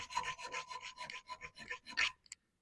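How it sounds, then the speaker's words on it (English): Gentle hand filing on the edge of an adjustable bar clamp, a run of short rasping strokes in quick rhythm, close and fairly quiet, ending with a light tap. "by gently filing them"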